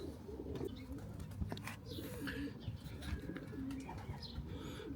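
Racing pigeons coo steadily in a stock loft, several birds making soft, continuous throaty calls that overlap close by with no one speaking.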